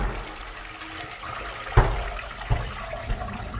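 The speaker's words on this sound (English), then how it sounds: "You can see that, I'll flush." A badly blocked toilet, one of several clogged toilets on a London call-out, is flushed: a steady wash of rushing water punctuated by a sharp gurgling thump and a couple of smaller knocks.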